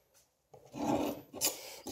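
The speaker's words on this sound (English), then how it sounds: "Steel brush." A steel wire brush rasps across a Volkswagen 2.5L front brake rotor in two close strokes: a quiet touch, then a long, loud scrape and a shorter second pass, with no talking.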